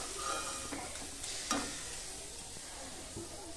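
Spinach fries in a pan with a soft, steady sizzle, broken by a few light stirring scrapes and one sharper knock, low in level.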